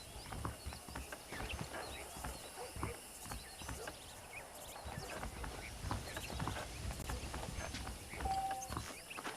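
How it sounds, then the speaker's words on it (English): Horse hooves clip-clop steadily through the Red Dead Redemption western game, a continuous walking rhythm of hoofbeats at moderate distance over ambient background noise. "The horses are saddled up over here."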